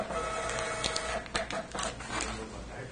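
A fiscal printer (ECF) printing an X reading report rattles steadily through the whole clip, with rapid mechanical buzzing and sharp clicks as the paper feeds, close and fairly loud, and no talk over it.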